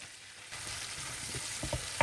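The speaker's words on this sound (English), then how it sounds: "Time to add all the vegetables and tomatoes and garlic, onions, you know, all that good stuff right there." Vegetables, tomatoes, garlic and onions hit a hot pan at a ranch kitchen, breaking into a loud close sizzle with stirring scrapes and a sharp clank near the end, no talking.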